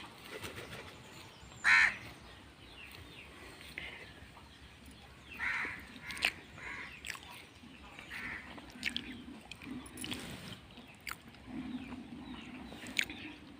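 A crow gives a single sharp caw early on, then faint clatter and scattered soft bird sounds fill an otherwise quiet background.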